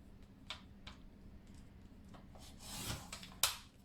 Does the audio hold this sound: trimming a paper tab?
yes